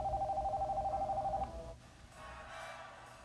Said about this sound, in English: All of a sudden, the phone rang.